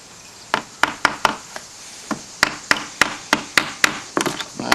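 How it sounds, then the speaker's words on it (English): Irregular hammer blows striking a nail into wood during a window balance repair, a dozen or so sharp knocks with uneven pauses, close and fairly loud. "I hope they hold into place there while I do the hammering."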